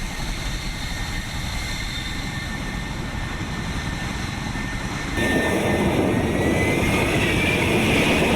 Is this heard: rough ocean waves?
no